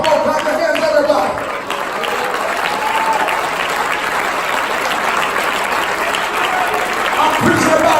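A church congregation claps hands together in steady, continuous applause throughout, loud and dense, with a voice calling out over it near the start.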